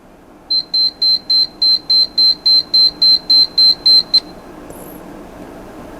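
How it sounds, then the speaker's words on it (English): A computer alarm being repaired, a machine that won't turn on with an overheating Super I/O chip, sounds a steady run of twelve loud, evenly spaced electronic beeps, then falls silent leaving faint background hum. "or at least the screen capture has an alarm on it"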